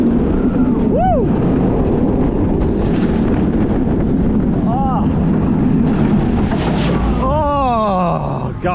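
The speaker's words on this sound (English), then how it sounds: "an awesome POV then, a near back row ride on Dragon Con." Dragon Khan roller coaster at PortAventura World, ridden near the back row through corkscrews and a cobra roll: continuous loud rushing wind roar with rumbling track noise, and riders' whoops and screams rising over it at moments.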